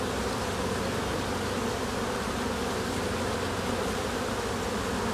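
Honeybees swarm around an open hive, their dense buzzing holding steady and close throughout with no voices.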